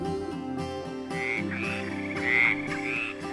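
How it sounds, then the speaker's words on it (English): A frog croaks several times over gentle background music, the calls fairly close and clear. "I see a green frog looking at me."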